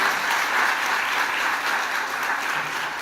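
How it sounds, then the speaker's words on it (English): A conference audience breaks into steady, full applause, dense clapping from many hands sustained at an even level throughout, with no voices standing out. "give a round of applause, please"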